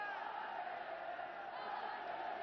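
Packed stadium crowd of about 38,000 at Stade Geoffroy Guichard during a 1970–71 European Cup match against Saint-Étienne, a dense, steady roar of shouting voices filling the whole clip.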